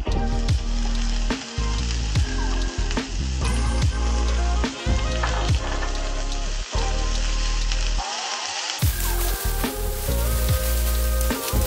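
Banana flower with crushed garlic sautés in a hot pan, a steady loud sizzle and crackle running throughout, broken by the scrape of a spatula against the pan bottom.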